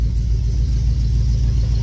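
A Chevrolet Tahoe engine with a small exhaust leak and a misfire idles close by, a loud, steady low rumble with a faint rhythmic pulse.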